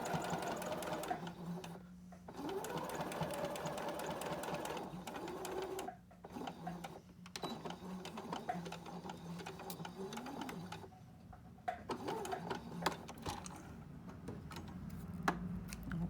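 Home sewing machine stitching darts in a fleece hat, its steady motor whir running in long bursts with brief pauses between seams, close and continuous.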